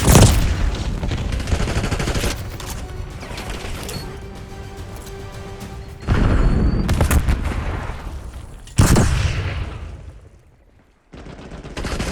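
A frag grenade explodes in the Call of Duty video game amid heavy gunfire, with loud booming blasts around six and nine seconds cutting through sustained rapid shooting, then a brief lull before firing resumes.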